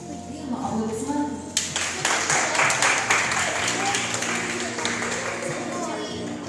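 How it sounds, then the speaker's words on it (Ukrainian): Applause and scattered clapping from an audience break out partway through and continue steadily, with voices and chatter mixed in underneath. "аплодисменти"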